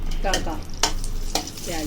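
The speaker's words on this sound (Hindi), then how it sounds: "खिचड़ी का लगा रहा हूँ मैं छौंक, वो भी देसी घी और मक्खन में" Hot desi ghee and butter sizzle steadily as a tempering for khichdi fries, with a few sharp clinks of stirring in the pan, close and fairly quiet.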